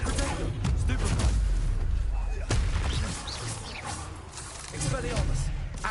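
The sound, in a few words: spell casting effects in Hogwarts Legacy video game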